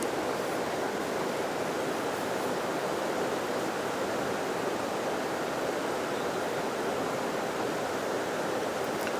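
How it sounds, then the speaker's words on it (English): A stream of water flows outdoors with a steady, broad rushing wash that holds an even level throughout and has no voices or other distinct events. "The stream's going that way."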